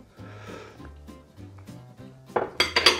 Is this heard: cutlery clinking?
yes